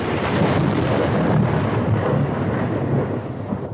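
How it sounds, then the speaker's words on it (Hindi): A thunder crack used as a sound effect in a Hindi horror story rolls out as a loud, dense rumble with a rain-like hiss, holding strong for several seconds before easing slightly. "तभी बिजली कड़की।"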